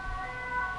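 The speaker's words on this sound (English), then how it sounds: "Sirens." A siren wails outside, a brief steady tonal whine heard faintly through closed windows with no talk.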